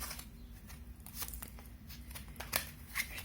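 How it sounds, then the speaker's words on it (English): Tarot cards being shuffled in a quiet room, a soft continuous riffling with a few sharper snaps near the end, close and fairly faint, with no talking. "let's keep shuffling a little more for Virgo"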